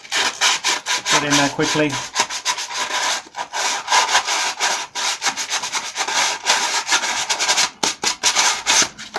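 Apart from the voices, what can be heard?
sanding rough stormtrooper armour part with sandpaper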